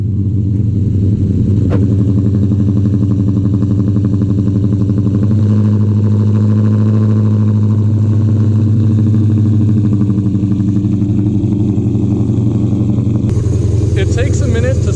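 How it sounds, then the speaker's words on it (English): A cammed Dodge R/T V8 fires up in hot weather and settles into a loud, lumpy idle, a close, throbbing engine rumble with a rev swell midway and a brief voice near the end. "So, I'm gonna cold start the RT"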